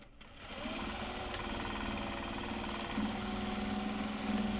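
A sewing machine stitching Japanese fabric drawstring bags runs in one continuous, steady whirring burst with a slight rise near the end, fairly close, with no talking.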